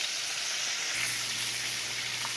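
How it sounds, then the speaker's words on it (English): Chicken breast pieces frying in hot oil for a sandwich, a steady close sizzle with broadband crackle that holds evenly throughout, a low hum joining partway. "our last 2 pieces are frying"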